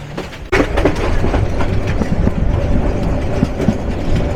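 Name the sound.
Kishoreganj Express passenger train running toward Dhaka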